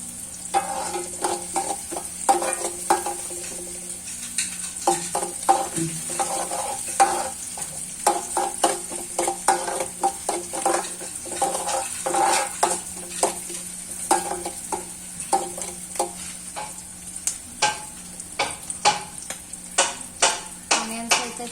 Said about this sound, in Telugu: ఆనియన్స్ అయితే ఫ్రై అవుతున్నాయి ఫ్రెండ్స్.